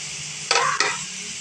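Pechay (bok choy) goes into a pan with tomatoes, and two quick scraping stirs cut through a steady background sizzle of frying.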